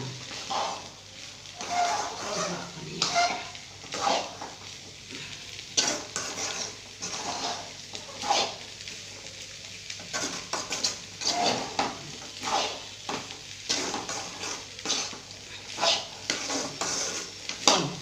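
A utensil stirs grated coconut around a frying pan, giving soft repeated scraping strokes with a light sizzle underneath, close and moderately quiet, with no talk.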